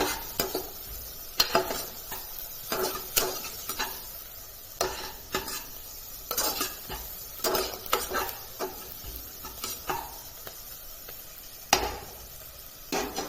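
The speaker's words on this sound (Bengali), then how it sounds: "সবগুলোকে ভালো করে একটু কষিয়ে নেব ভালো করে কষিয়ে নিয়ে ভেজে নেব" Vegetables and egg being stir-fried in a pan for Bengali fried rice made with leftover rice, with repeated close scraping and stirring clatters over a soft background sizzle.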